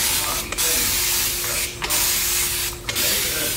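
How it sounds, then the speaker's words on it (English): A fine-mist spray bottle spritzes quilt fabric in three short, close hissing bursts with brief pauses between them. "we're going to give it a good spray and a good press."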